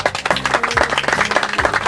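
Crowd at a Karaman sheepdog show breaking into brisk, dense applause, many hands clapping loudly and close in a rapid, steady patter that continues throughout.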